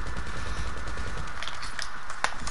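Rapid gunfire in the video game GTA, a steady rattle of quick shots under continuous game noise, fairly loud throughout.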